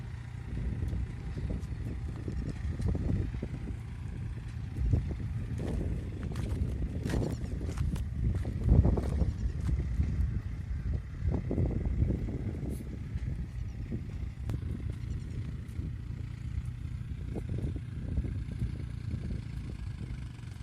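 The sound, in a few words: New Holland 4710 tractor driving in a wet field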